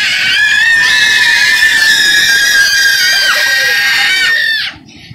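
A young girl lets out a loud, sustained high-pitched scream at home with family, held for several seconds before breaking off abruptly, with no talk over it.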